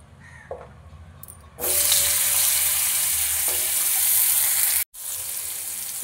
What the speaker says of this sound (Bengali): এবারে ওই তেলের মধ্যে দিয়ে দেবো গাজর।